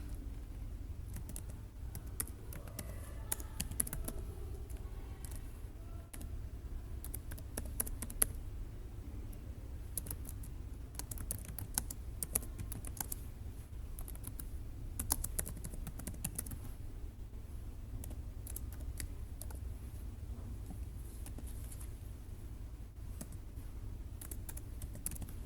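Steady typing on a computer keyboard while writing a program, a continuous patter of close key clicks over a low hum, with no talking.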